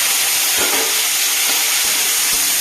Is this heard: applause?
no